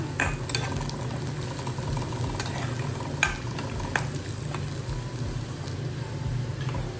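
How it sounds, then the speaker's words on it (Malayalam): Sliced shallots frying in hot oil with fenugreek in a pan for prawn and drumstick curry, a steady soft sizzle under occasional stirring clinks and scrapes, close and even, no talking. "ചുവന്നുള്ളി ഇട്ടിട്ടുണ്ട്. ഈ ചുവന്നുള്ളി നന്നായിട്ടൊന്ന് മൂത്ത് വരട്ടേട്ടാ."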